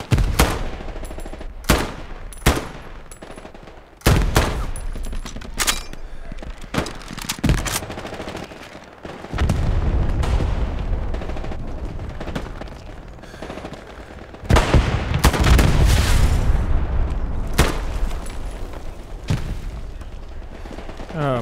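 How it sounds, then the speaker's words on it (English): Gunfire and grenade blasts fill a Hell Let Loose battle: loud single shots and rapid bursts, several heavy booms with rumbling tails, and a sustained stretch of intense firing, with faint voices now and then. "Grenade."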